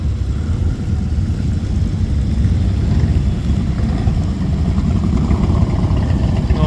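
An old Matchless motorcycle runs at a restorers' rally in Inverell, a steady, loud low engine rumble lasting throughout among outdoor background noise.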